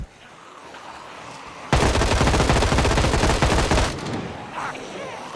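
Rapid automatic gunfire in Project Zomboid, a loud, dense burst of about two seconds that rattles close by, then fades into a quieter background.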